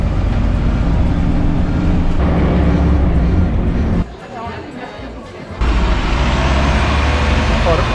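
Street traffic roars at a bus stop in the Croix-Rousse area of Lyon, France, with a dense, steady wash of passing vehicles and engines close by that dips briefly before swelling back to full loudness.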